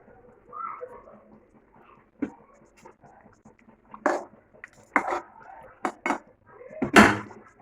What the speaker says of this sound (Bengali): এবার এক এক করে মাছগুলো আমরা দিয়ে দেবো